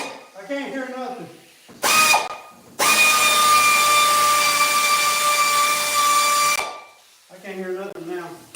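A loud, high whining hiss from an Eastwood Contour SCT Finisher air tool comes in two bursts, a short one and then a sustained run of about four seconds. Speech is heard before and after the tool runs.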